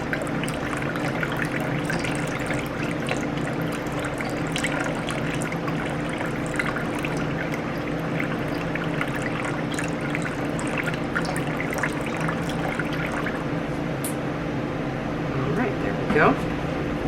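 Distilled water trickles steadily as it is poured for a lye solution while making wine soap, a continuous soft stream under a background hum that lasts the whole time.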